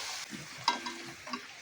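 Chicken pieces frying in oil for a restaurant-style curry, a brief quiet sizzle with a short metallic clink near the middle.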